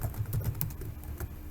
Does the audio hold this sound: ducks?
no